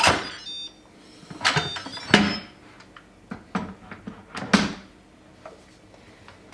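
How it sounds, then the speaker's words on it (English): An Instant Pot lid being twisted and lifted off after steel cut oats finished cooking and naturally released pressure: a close run of sharp clicks, knocks and metallic clatters spread over several seconds, with no talking. "The button's dropped, so let's take the lid off."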